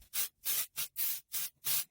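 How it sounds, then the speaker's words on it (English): Six quick hissing bursts of dry texture spray onto hair in a steady rhythm, each a short aerosol puff close by, with brief silences between. "you're gonna see how much easier it is to do with dry texture spray"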